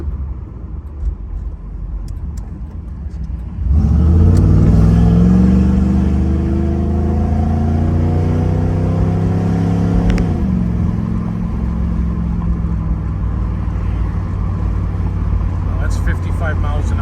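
A 1986 Chevrolet Camaro IROC-Z with a 5.0 V8 and T-tops, heard from inside as it accelerates: the engine climbs steadily in pitch through the gears, then settles into a steady cruising drone with road rumble, and someone talks over it.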